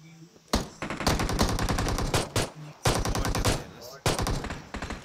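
Loud, rapid bursts of automatic gunfire in an online shooter game, with about four separate volleys of close shots firing in quick succession, separated by brief gaps.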